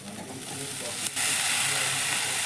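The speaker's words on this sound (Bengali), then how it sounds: "চিংড়ি মাছগুলো এখন আমি দিয়ে দিলাম।" Prawns drop into a hot pan of spiced oil, and a soft background hiss jumps to a loud, sustained, close sizzle that continues steadily.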